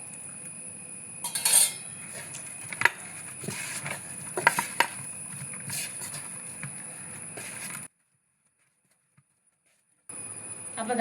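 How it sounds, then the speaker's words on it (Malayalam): Rice flour dough with sesame seeds and cumin is worked by hand in a bowl, giving soft irregular pats and squelches with sharp clinks against the dish. A few seconds of silence fall before the handling sound returns. "ഇനി നന്നായി നമുക്കിതൊന്ന് കുഴച്ചെടുക്കാം."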